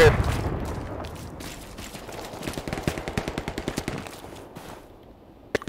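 Rapid machine-gun bursts and scattered rifle shots from the World War II shooter Hell Let Loose, near and sharp with a dense rhythmic volley in the middle, while teammates talk over voice chat.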